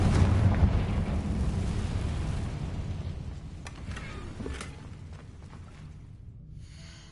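Confringo spell explosion in the video game Hogwarts Legacy: a loud, deep fiery blast that opens with a heavy rumble, then a long crackling decay that fades over several seconds, with a few sharp debris clicks.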